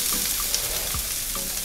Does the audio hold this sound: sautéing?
yes